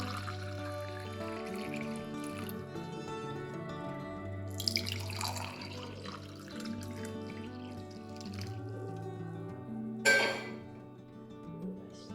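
Warm water poured into a glass for a detox drink, a soft trickling and dripping stream amid sustained tonal background sound, quiet and close, with a brief louder splash near the end.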